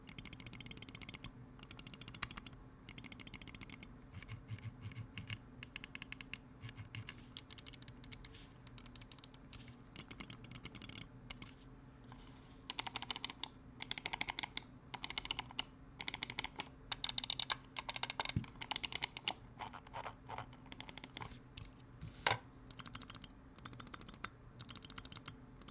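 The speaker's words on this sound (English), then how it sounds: "I also want to give you a sound test compared to the Pulsar X Lite, which is just a plastic mouse" Mouse buttons on a WLmouse Sword X and a plastic Pulsar X Lite are clicked in quick bursts close to a microphone, sharp snappy ticks in rapid runs with short gaps, no voices.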